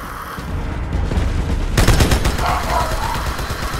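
Sustained rapid machine gun fire from a mounted turret during a Halo 2 battle, building to a loud dense burst midway and continuing with booming impacts, no voices over it.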